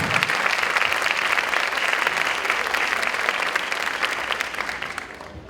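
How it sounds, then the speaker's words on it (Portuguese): An auditorium audience applauds hard for an 80th birthday, a dense, loud, continuous wash of clapping from many hands that holds steady and then begins to fade near the end. "gostaria que vocês realmente aplaudissem forte, porque ela faz 80 anos"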